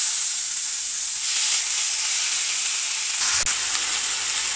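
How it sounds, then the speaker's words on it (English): Butter ghee sizzles steadily in a pan with a loud, close, continuous hiss, swelling slightly in the middle, with one brief clatter near the end. "So I will add some butter ghee into this pan."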